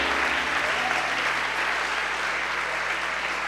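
Church congregation applauding during a sermon, a thick, continuous roar of clapping that fills the space at a steady, loud level.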